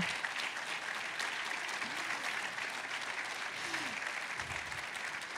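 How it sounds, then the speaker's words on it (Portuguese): An audience at the opening of the HackBrazil hackathon at the Brazil Conference at Harvard and MIT 2018 applauds five teams with continuous, even clapping heard from a distance, with a few faint voices beneath. "uma grande salva de palmas para essas 5 equipes"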